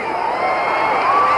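A crowd cheers at the Muhammad Ali vs Buster Mathis boxing fight in November 1971, making a dense, loud roar that holds steady across the whole short stretch.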